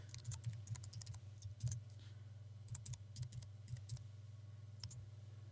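Keyboard typing while renaming a project in Final Cut Pro X on a computer: quick, light key clicks in short bursts with brief pauses, faint and close over a steady low hum.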